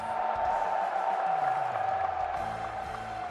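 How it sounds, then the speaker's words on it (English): A crowd at the EVO fighting game losers finals roars steadily, a sustained broad cheer with a constant tonal hum running through it and a voice faintly mixed in. "let me hear that crowd"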